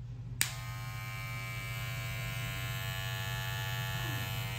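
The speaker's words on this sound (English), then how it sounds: "That is the gold clipper." A gold hair clipper switches on with a click and then runs with a steady, loud electric buzz and hum, continuous and alone for several seconds.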